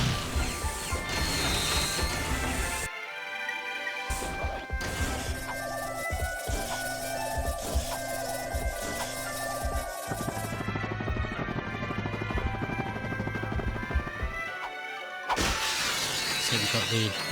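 Crates smashed with the box breaker in Ratchet and Clank 2, a run of crunching breaks and clattering mechanical game effects over dense, continuous game music, loud and busy throughout.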